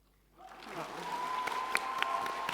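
Applause swells at a TwitchCon panel for the Dream SMP, rising from quiet into sustained crowd clapping that carries on steadily without speech.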